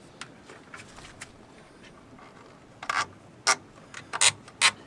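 Clamp of a Memo bike rack being tightened on e-bikes mounted to a Hymer Fiat Ducato campervan, faint rubbing at first, then several sharp ratcheting clicks and scrapes close by.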